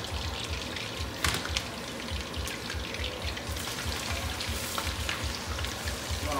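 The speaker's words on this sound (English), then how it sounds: "Ahí está derritiéndose la mantequilla." Butter melting in a pan before a steak goes in, a soft continuous sizzle and crackle with faint spattering, quiet and steady throughout.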